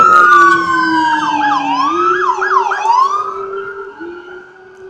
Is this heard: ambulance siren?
yes